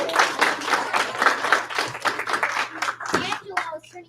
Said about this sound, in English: Give him one clap. Two claps.